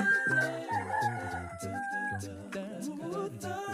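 Native chickens in a village coop, a rooster crowing loudly and close in drawn-out calls, with overlapping crows and clucking from other birds around it.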